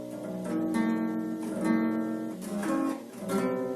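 A new classical guitar strummed several times, its chords ringing with a sour, slightly clashing out-of-tune quality, played alone at moderate loudness.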